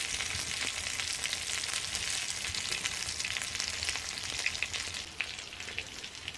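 Steady broadband sizzling of a meal frying on a wood stove inside a heated tipi, with vegetables and meat seasoned with salt, pepper and apple quarters, continuous and close with no talk.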